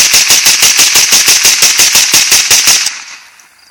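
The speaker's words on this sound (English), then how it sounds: "Squat down so you get better accuracy. Whatever you're shooting, aim and fire." A pistol fires at an outdoor gun range in a rapid string of about fifteen loud, evenly spaced shots. The volley ends abruptly, leaving a brief fading echo.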